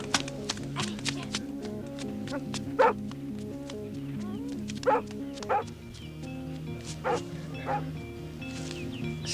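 A pet dog named Dagobert barks in short, spaced yips and woofs over a steady musical background, a few sharper barks standing out near the middle.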